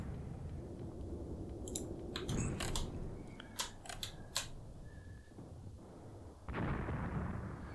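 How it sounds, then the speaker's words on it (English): Artillery barrage in the WWII tank game Tank Warfare: Tunisia 1943, set at Longstop Hill, with several sharp, loud impacts and booms in quick succession over a steady rumbling battle background. "I think we need some more artillery fire."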